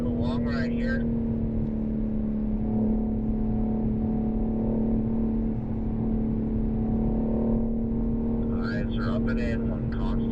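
BMW M3 engine pulling hard on the COTA race track, a steady loud drone with a strong tonal hum that holds through the whole stretch, with brief bursts of noise near the start and end.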